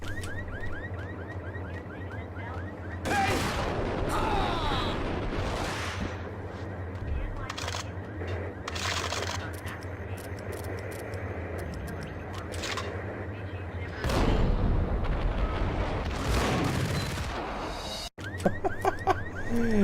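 Gunfire in the video game Max Payne, bursts of shots with metallic impacts and game effects, including a loud barrage near the end, over steady background game sound and a voice speaking.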